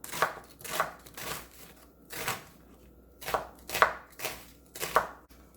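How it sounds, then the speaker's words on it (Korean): A medium onion chopped with a knife on a board, about eight crisp distinct thuds in an uneven rhythm, close and clear with no talking. "양파 중간 크기 한 개 썰어줍니다."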